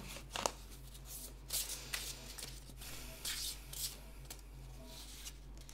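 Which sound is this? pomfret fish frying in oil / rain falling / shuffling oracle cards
shuffling oracle cards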